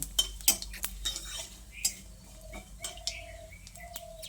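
A bay leaf, two dried red chillies and whole cumin seeds tempering in hot oil for a vegetarian jackfruit dish, heard as light utensil clinks and stirring over a faint sizzle, with a few brief chirps in the background.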